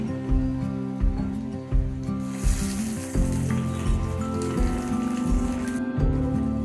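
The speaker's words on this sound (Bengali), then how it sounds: "ওই তেলের মধ্যে দিয়ে দেবো হাফ চামচ পাঁচফোড়ন আর একটা পেঁয়াজ কুচুনো দিয়ে দেবো দিয়ে দেবো টমেটো কুচি" Panch phoron with chopped onion and tomato sizzles steadily in hot oil for a light rohu fish and papaya curry, a continuous close crackle with soft swells throughout.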